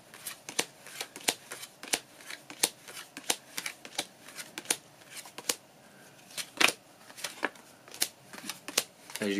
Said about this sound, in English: So just shuffle them up, go 1 through 52, put the number on every single card.